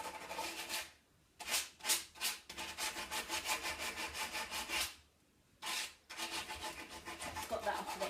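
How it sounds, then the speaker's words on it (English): Sandpaper rubbing paint off brass door hinges on a chalk-painted piece, heard as close, rhythmic back-and-forth scraping strokes in two bursts separated by short pauses, fairly quiet and alone. "So you can use your sandpaper to get off the paint"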